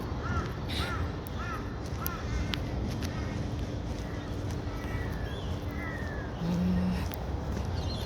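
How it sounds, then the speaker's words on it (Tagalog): Several crows caw outdoors at a moderate distance, repeated harsh calls scattered over a low background hum, with a few faint other sounds. "Maraming uwak."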